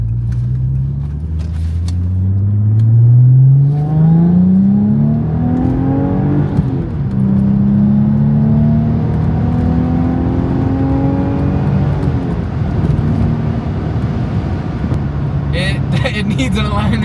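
Audi B5 S4 with a Stage 3 build accelerating hard on its first drive after a full overhaul, engine note climbing through rising gear pulls, loud and close from inside the car, with the tone sweeping up repeatedly before settling into a steady cruise.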